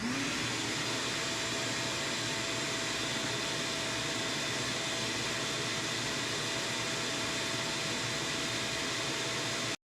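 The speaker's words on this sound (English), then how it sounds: "Finally, my rigid with the muffler attached, which did drop the rigid about 3 decibels as well." A Ridgid shop vacuum fitted with a muffler runs steadily and alone, giving a loud, continuous broadband whoosh of airflow with a faint motor whine that holds throughout before cutting off at the very end.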